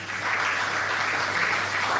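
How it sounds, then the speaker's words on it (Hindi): Audience applause at a question-and-answer event: dense, continuous clapping from a crowd, loud and even throughout, with no talk. "फिर से जोरदार तालियां सबके लिए।"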